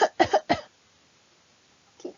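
Three quick, close coughs in a row, then a brief pause and one softer cough, alone in a quiet room.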